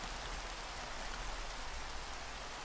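Steady rain falls in Minecraft, a dense, even hiss of drops with no pauses, filling the whole stretch at moderate level with no voices.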